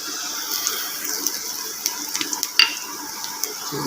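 Cumin and fenugreek seeds hit hot oil in a pot for Lahori daal, producing a steady close sizzle dotted with small crackles and pops.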